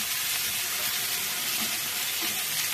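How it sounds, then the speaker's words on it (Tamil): Tomatoes sauté in a pan for a roasted masala chicken dish, a loud continuous close sizzle with faint stirring scrapes, no voices. "தக்காளி ஒரு பெரிய தக்காளி ஒரு அஞ்சு எடுத்து அப்படியே போட்டு இதில் வதக்கிடலாம்"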